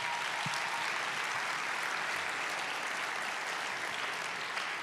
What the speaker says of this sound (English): Can we please give them a warm round of applause?